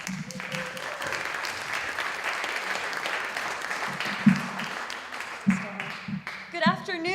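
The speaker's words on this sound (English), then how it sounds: "Please join me in another round of applause" Theater audience applause at a venue's birthday celebration, a dense steady wash of clapping from a large crowd, with a few louder claps and a voice starting to speak near the end.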